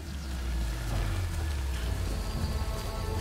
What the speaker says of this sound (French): Oh merde, il pleut.